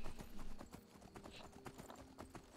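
Horse hooves clip-clop in a steady, quick rhythm as a mount trots along in the video game The Elder Scrolls V: Skyrim Special Edition, quiet and close.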